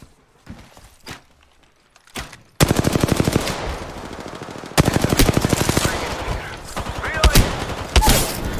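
Gunfire in a battle royale video game: after a quiet opening with a few isolated shots, dense rapid automatic bursts break out and continue loud and close, with brief pauses between volleys.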